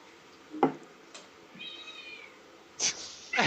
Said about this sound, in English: She's feeding the cats, and the cats are really hungry.